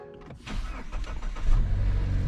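A small turbocharged car of about 250 horsepower, a rebuilt theft recovery, cranks briefly and then fires, settling into a loud, close idle with a low rumble that swells as the engine catches.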